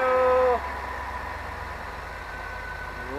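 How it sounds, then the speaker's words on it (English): An RV engine makes a cold first start after fuel injection work: there is a loud cranking and catch in the first half second, then a steady, fairly quiet idle rumble continues on its own. "That is a dead cold start."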